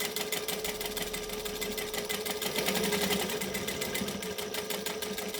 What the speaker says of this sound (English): I'm going to sew it here to kind of hold it securely in place.